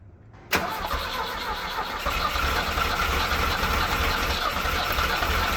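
A Mustang skid loader engine cranks and tries to start after a sharp onset, a steady mechanical churning that continues for several seconds without catching, close and fairly loud.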